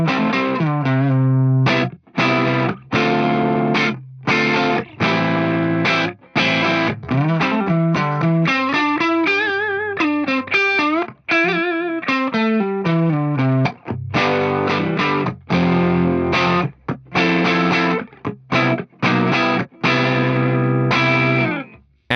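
An electric guitar runs through an Axe-Fx III, set to a loud clean amp in a big hall reverb. Ringing chords and picked runs play continuously, close and loud, with long lush tails and no talking.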